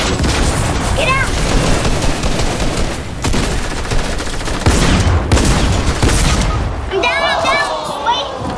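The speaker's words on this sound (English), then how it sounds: "There's people shooting at us!" Rapid gunfire rings out in a Fortnite match around a yacht, continuous and loud throughout, mixed with game effects and heavy ambient noise while players shout over it.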